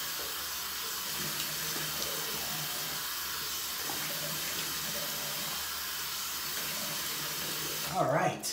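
Tap water runs steadily into a bathroom sink, a soft continuous hiss, and ends in a brief closer splash as the face is rinsed before a shave.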